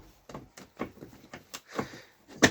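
A cutlery drawer in a Laika Ecovip 4009 DS motorhome kitchen is pulled open with several small knocks and rattles, ending in a louder close clunk.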